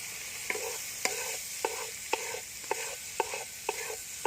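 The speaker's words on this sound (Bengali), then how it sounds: "আর তেলে পনির ভেজে নেব" Paneer frying in oil, a soft continuous sizzle punctuated by about eight regular clinks of a spatula stirring in the pan, close and fairly quiet with no voices.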